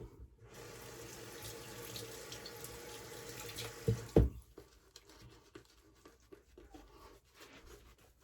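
Water runs from a tap near the microphone during shaving soap lathering, a steady stream that stops after about four seconds. Faint clicks and handling noises follow.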